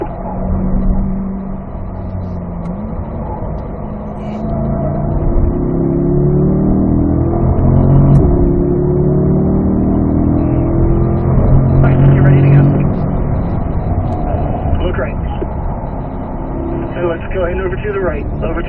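A car engine on the Spring Mountain North Course race track revs and climbs through its gears, then drops through downshift blips, loud and steady throughout, with a driver talking over it.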